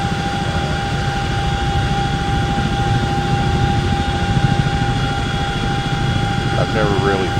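A CH-47 Chinook helicopter in flight in the X-Plane 11 simulator gives a steady, loud engine and rotor drone that holds constant throughout, with a high whine layered on top.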